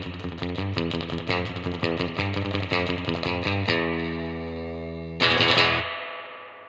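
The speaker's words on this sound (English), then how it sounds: "Surf music was built on the sound of the spring reverb." An electric guitar picks a quick, repeated riff through a spring reverb, each note trailing a splashy metallic wash, then a held chord rings out and a final struck chord blooms into a crashing reverb tail.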